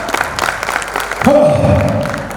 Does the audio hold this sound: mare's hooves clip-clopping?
no